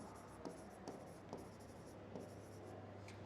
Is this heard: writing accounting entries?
yes